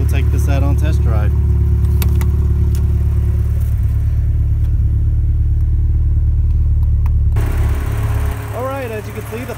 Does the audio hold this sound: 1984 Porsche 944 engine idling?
yes